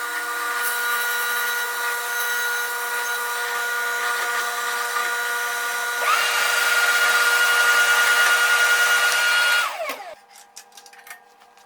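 A drill press bores into a block of wood, its steady motor whine shifting as the bit cuts deeper and the load rises, then spinning down and stopping near the end, loud and close with no talk.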